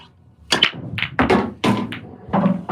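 Pool balls clacking together on a table during a UK-style reds-and-yellows pool practice session: several sharp, close knocks spaced irregularly, heard alone with no talk over them.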